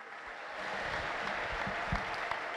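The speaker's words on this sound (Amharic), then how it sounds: "ለእግዚአብሔር ታላቅ እልልታ" A church congregation applauds in a sustained wash of clapping that swells after the first half second, with scattered louder claps and no distinct speech.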